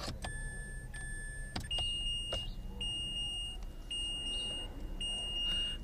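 Mitsubishi Mirage dashboard chime after the ignition switch is turned on: a series of repeated electronic beeps with clicks and faint interior background, moderately quiet.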